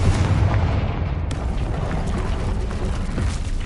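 A blasting-spell explosion in Hogwarts Legacy hits as a loud, dense, sustained boom that rumbles heavily through the whole moment, with no voices over it.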